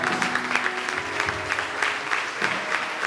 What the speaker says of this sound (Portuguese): Diga uma salva de palmas.